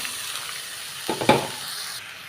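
Pulses are tipped into lightly salted, softened onions in a hot pan for a South Indian kuzhambu, giving a steady close sizzle with a couple of clattering stir strokes near the middle.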